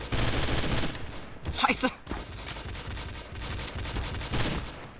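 Gunfire in the video game Trouble in Terrorist Town, with a burst of rapid shots near the middle over continuous game noise while someone talks and exclaims.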